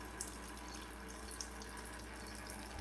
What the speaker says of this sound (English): Now we're draining the cooling system